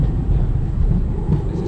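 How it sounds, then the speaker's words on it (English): A modern tram runs through a Riga, Latvia street in December, giving a steady, fairly loud low rumble that holds for the whole short stretch with no clear talk over it. "Here is the more modern, I don't know, Latvian tramways,"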